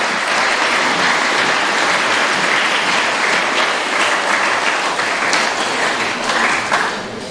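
Audience applause for Faleata College at a Samoan conservation event, loud sustained crowd clapping that holds steady and eases slightly near the end, no voices.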